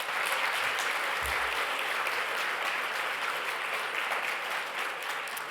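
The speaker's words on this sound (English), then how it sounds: "Let's give them one more round of applause." Audience applause for the finalists at a startup pitch competition finale, a full, continuous wash of clapping from the room that holds steady and eases off only slightly at the end.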